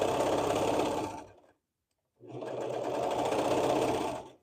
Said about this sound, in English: then I usually serge over a little bit, and then I'll just pull this out of the way and then keep going